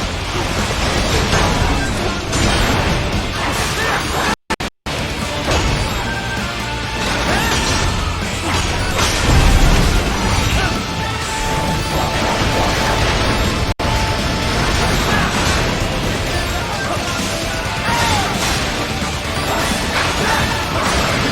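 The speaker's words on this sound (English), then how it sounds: "I'll fucking cut up those missiles though" Dense, loud crashes and explosive impacts from missiles being sliced apart in Metal Gear Rising: Revengeance, pounding continuously over a driving music track with only two brief dropouts.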